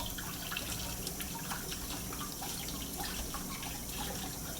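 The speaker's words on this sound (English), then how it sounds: "I'm actually gonna just rinse off my stone real quick because we built up quite a bit of residue there." Cold tap water runs steadily over a sharpening stone being rinsed after freehand knife sharpening, a constant close splashing rush with no talking.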